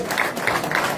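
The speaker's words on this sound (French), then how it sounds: "merci on a applaudi l'artiste pour cette réflexion" An audience applauds an artist at a press conference in Paris, a brief dense patter of clapping from a crowd in a room, steady and moderately loud throughout.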